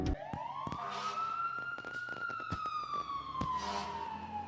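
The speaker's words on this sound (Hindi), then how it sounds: "बाहर वो फायर ब्रिगेड, कुछ हुआ है क्या?" A fire engine siren sounds outside, one loud, continuous wail that rises slowly in pitch and then falls, with a few sharp knocks on top and no talking.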